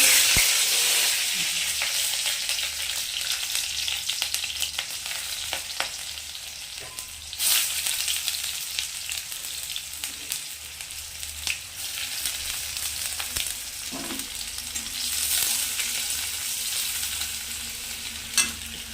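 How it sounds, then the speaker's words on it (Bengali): Onion, garlic and green chilli fry in hot oil for greens, giving a steady, close hiss of sizzling with occasional stirring scrapes throughout and no talking. "এই যে পেঁয়াজ রসুন আর কাঁচা লঙ্কা এটা দিয়ে ভাজা করব। তেলটা গরম হয়ে গেছে, এখন আমি এগুলো দিয়ে দিব।"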